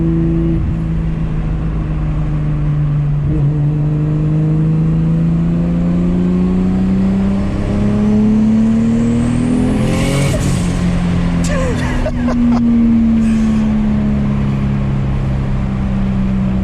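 A 2JZ-swapped Nissan 350Z with a turbo engine cruises in third gear near 3,500 rpm, a loud, steady in-cabin drone that rises slightly and then dips, with a few clicks and rattles near the end.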